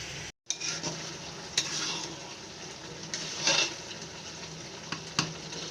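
Tamarind water simmers in a pan, a close, steady bubbling hiss with a few scrapes and stirring clinks over it, and no speech.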